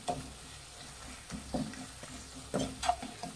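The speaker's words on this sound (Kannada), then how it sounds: "ಮೀಡಿಯಂ ಉರಿಲಿ ಇಟ್ಟು ನಾವು ಇದು ಮಸಾಲೆ ಎಲ್ಲ ಮಿಕ್ಸ್ ಮಾಡಬೇಕಾಗತ್ತೆ" Potato fry masala stirred in a pan over a medium flame, with soft intermittent scraping strokes and a low sizzle running underneath, near and fairly quiet.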